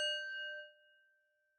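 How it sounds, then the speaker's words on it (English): A single bell struck to open a meditation, its clear, pure ring sustaining and slowly fading on its own in a quiet room. "We'll begin with a bell."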